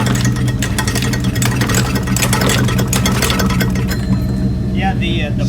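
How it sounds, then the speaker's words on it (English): A petrol lawn mower engine runs loud and steady, its blade knocking against something in rapid irregular clinks, with a brief scraping squeal near the end. "Yeah, the blade is hitting something."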